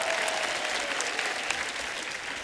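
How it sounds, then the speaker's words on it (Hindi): Audience applauding for guests on a Pakistani show hosting a singer, a steady dense clapping that stays loud and even throughout without any talk. "एक बार जोरदार तालियां हमारे मेहमानों के लिए।"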